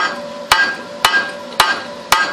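Four loud, evenly spaced metal clangs ring out as a hammer strikes a hot steel gas bottle stove part outdoors with no anvil, each blow sharp with a brief ringing decay.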